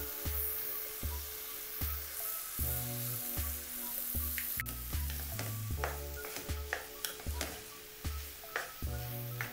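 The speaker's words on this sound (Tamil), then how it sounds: "இப்போ ரைஸை நம்ம மிக்ஸ் பண்ணி எடுத்துக்கிடலாம்" Cooked rice being stirred and mixed in a hot pan for coriander rice, with repeated scraping clanks of the spoon against the pan over a soft sizzle, close and rhythmic with no voices.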